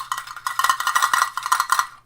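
Coins, a handful of quarters, rattle and clink inside a small box, shaken in quick irregular bursts for about two seconds, close and fairly loud with no talking.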